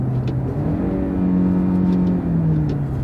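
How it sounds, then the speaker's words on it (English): A car engine in manual shifting mode drones loudly and steadily up close, its pitch rising and dipping as gears change, with no voices over it. "Downshift. Hey, it downshifts quick."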